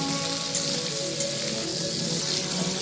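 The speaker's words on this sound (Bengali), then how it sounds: "আলুটা দেওয়ার পরও একটু ভেজে নিয়েছি" Diced potato and pointed gourd fry together in an oiled pan, giving a steady, close, continuous sizzle with faint crackles throughout and no voices.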